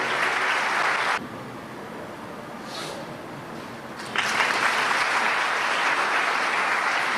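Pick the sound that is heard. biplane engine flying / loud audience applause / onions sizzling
loud audience applause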